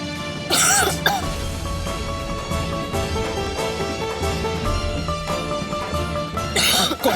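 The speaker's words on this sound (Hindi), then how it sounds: "मुझे मिर्ची से प्रॉब्लम होती है ना, इसलिए खांसी आ गई।" A person coughs after eating chilli, with two short harsh bursts near the start and end over steady background music.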